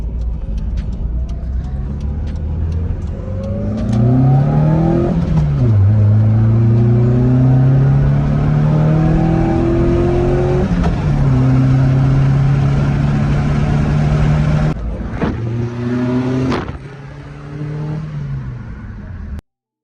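A Toyota Starlet with a 4E-FE engine and a 7A-FE throttle body revs hard in repeated rising and falling sweeps, loud and close, then drops back toward idle near the end.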